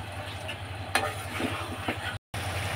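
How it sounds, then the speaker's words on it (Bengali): Chicken cooks in a Bengali-style spice masala while being stirred, a steady sizzle with a few scraping stir strokes cutting through, close and moderately quiet, with no voices. "এখন আমি চিকেনটা ভালোভাবে মশলাতে কষিয়ে নিচ্ছি।"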